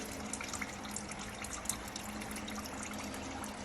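Coolant trickles out of a Subaru 2.5 RS into a container, a continuous soft splashing stream that stays even and fairly quiet throughout.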